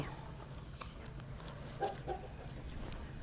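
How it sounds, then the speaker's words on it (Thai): Faint, distant chicken clucks come in brief bursts over a low ambient rumble, with a couple of louder clucks midway. "เสียงไก่"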